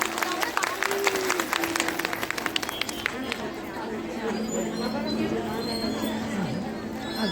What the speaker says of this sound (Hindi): मुख्य अतिथि महोदय और विशिष्ट अतिथि महोदय का जोरदार तालियों से स्वागत।